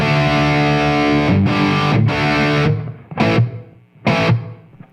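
Electric guitar played through a computer amp plugin with a room sound width effect, distorted chords ringing out then cut into short stabs with brief gaps between them, loud and close.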